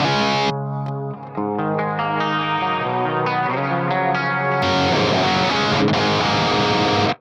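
An electric guitar played through an Axe-Fx III on the Jazz 120 amp model with chorus, delay and reverb: clean sustained chords and single notes, then a switch to a louder, denser, more distorted tone, with no talking.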